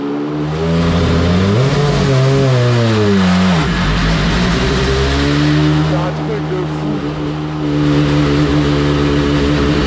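An Audi A4 DTM (R13) race car engine fires up and revs hard, loud and close, with rising and falling harmonic tones through the whole stretch; someone speaks over the engine noise.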